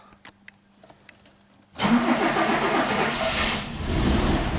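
A Fiat 130 engine cranks and catches on full choke after a few quiet clicks, then settles into a loud, rough, steady run close by with no voices.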